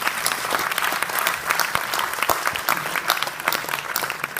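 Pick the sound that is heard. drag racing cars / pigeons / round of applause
round of applause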